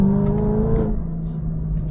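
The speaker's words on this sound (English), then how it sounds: "LS9 has such a unique sound. Like, listen to it bounce off this little wall." A Chevrolet Corvette ZR1 with the LS9 engine revs sharply nearby in a single rising blip that drops back to a throaty idle, echoing off a low wall.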